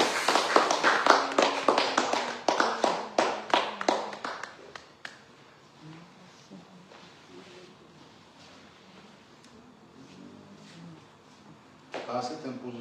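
Congregation clapping in unison at a Pentecost church service after a laying on of hands, a loud rhythmic burst of claps for about five seconds that then fades to quiet murmuring, with a brief swell of clapping again near the end.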